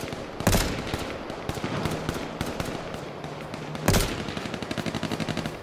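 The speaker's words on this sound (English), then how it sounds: "They're shooting at me like crazy." Rapid bursts of gunfire in the survival shooter H1Z1 on a farm, with two heavy volleys and a fast rattling string of shots near the end, dense and loud throughout.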